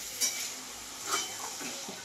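Washed, chopped beef fat dropped into a pan of fried spices for a lau curry, giving a soft crackling sizzle with a few scraping stirs and light clinks of a utensil against the pot.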